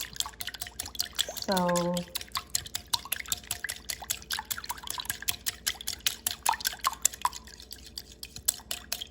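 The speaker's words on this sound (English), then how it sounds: "I have egg and milk in this bowl, which I'm going to mix." Egg and milk whisked by hand in a bowl for multigrain flaxseed crepes: a quick, steady run of light clinking and sloshing strokes, fairly close, with a brief word spoken near the start.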